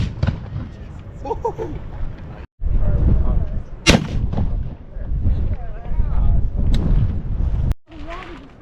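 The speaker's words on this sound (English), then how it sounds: "They're shooting cannons." Several loud, sharp booms ring out over a crowd's chatter at a citadel, with echoing blasts of cannon fire at intervals and brief pauses between.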